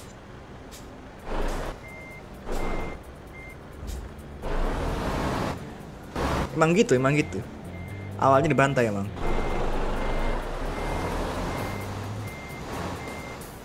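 Truck reversing beeps repeating in steady short pulses while parking in a truck-driving video game, heard in runs between and beneath people talking, with low engine rumble.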